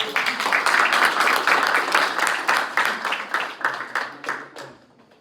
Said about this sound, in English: Can you clap it up for Greg?